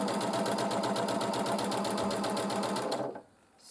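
Sewing machine chain piecing fabric squares with a quarter-inch seam, running at a steady rapid stitch close up, then stopping abruptly near the end.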